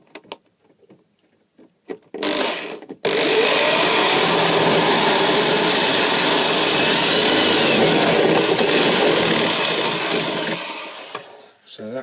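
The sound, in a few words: power drill drilling a hole through fridge side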